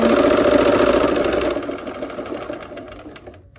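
A sewing machine stitches a quarter-inch seam on a kaleidoscope pinwheel quilt block, its steady motor whir running loud and close before easing to a slower, softer pace partway through.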